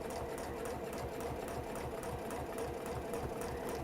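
A sewing machine runs steadily and quietly along a marked line on pinned fabric, a continuous close whirring with a rapid needle rhythm.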